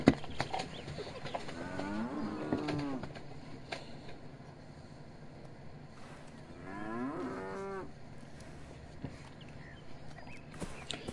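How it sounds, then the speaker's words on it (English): A cow in the video game Beyond Eyes lets out two drawn-out moos several seconds apart, set against soft ambient background noise. "then we could hear the cow"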